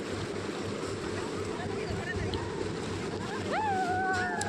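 Sea waves break on a beach in a steady, close wash of surf mixed with wind buffeting the microphone, while voices are heard over it.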